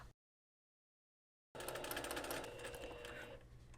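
A sewing machine stitches along the top edge of lace threaded with wash-away thread, a steady continuous motor whir starting abruptly after a short silence and running evenly to the end.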